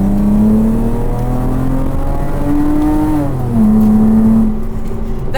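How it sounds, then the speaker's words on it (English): A 400HP Chrysler Crossfire track car pulls hard from inside the cabin, its engine note climbing through a gear, dropping at an upshift, then climbing again, loud and close throughout. "There's an upshift you hear, and then another upshift you feel."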